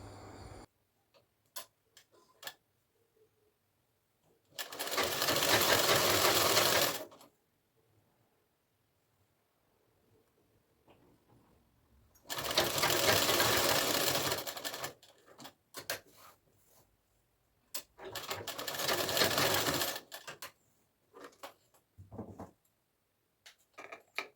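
A sewing machine stitches around the folded neckline of a kaftan, running in three loud bursts of steady whirring separated by quiet pauses.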